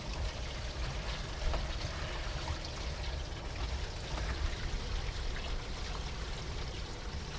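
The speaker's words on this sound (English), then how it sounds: "that's going to put water into the black tank, and it'll come running out of there here shortly" Water from a hose flushes out of an RV black tank at an RV park, a continuous pouring, gurgling rush that stays steady and fairly close throughout.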